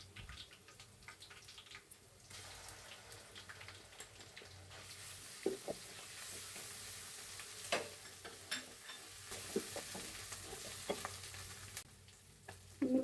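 Ginger-garlic paste hits hot oil with onions in a pan for a Bengali mung dal and fish head curry, giving off a soft, steady sizzle broken by scraping stirs, close and fairly quiet.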